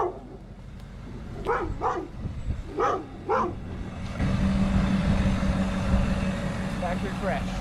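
Several dogs bark in short bursts at a moderate distance, with voices present, before a pickup truck with a 6.7 Powerstroke diesel engine rumbles up loudly and keeps idling beneath a few more faint barks.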